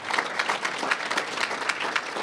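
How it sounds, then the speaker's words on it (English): A luncheon crowd applauds the hotel staff at a county budget event with dense, steady clapping that holds at even loudness throughout, with no voices over it. "Give them a round of applause."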